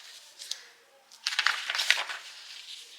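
Scissors snip through folded fabric for a little black dress, giving a few soft crisp cuts followed by a longer rustling burst of blade and cloth sounds, quiet and close, with no talking.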